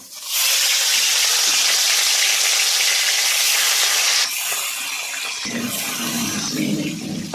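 Rohu fish pieces frying in hot oil, a loud, dense hissing sizzle close up that drops to a softer bubbling fry partway through.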